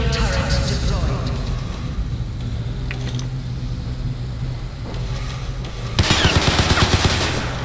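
A kill turret fires during gameplay in Crysis 3, rapid automatic bursts crackling amid a busy mix of game effects and rumble, with the gunfire growing louder and sharper toward the end.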